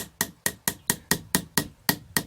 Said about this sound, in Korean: 망치로 이렇게 두드려서 이 글자 모양을 파내는 겁니다.